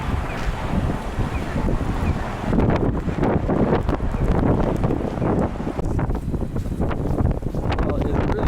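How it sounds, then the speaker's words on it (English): Strong gusting wind sweeps through a downtown Regina street during a snowstorm, a loud continuous roar that surges and buffets the microphone, with a voice speaking intermittently underneath. "Well, it's really picking up this wind."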